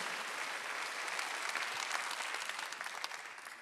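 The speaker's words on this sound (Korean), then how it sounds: "박수. 그런 소리를 들어야 됩니다." Members of a church congregation at a Sunday worship service clap together in steady, moderately loud applause that fades slightly toward the end.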